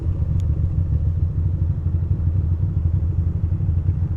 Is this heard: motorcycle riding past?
yes